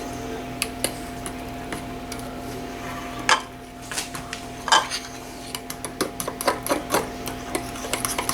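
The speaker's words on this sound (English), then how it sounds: "I'm going to stir that up" A blueberry pie mixture is stirred in a bowl, with a spoon clinking and scraping against the sides in irregular light taps and rubs that grow busier toward the end, fairly close and with no talk.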